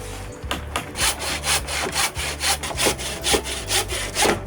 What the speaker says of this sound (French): Ah, je scie.